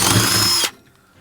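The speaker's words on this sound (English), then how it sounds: "we've just got one 9mm drill bit I'm going to use" A power drill bores a 9mm hole through the metal body of a van, a loud steady whine for under a second before stopping abruptly.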